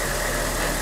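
Vehicle engine running in the military video game ArmA 2, a steady, loud mid-pitched idle rumble with no other sounds.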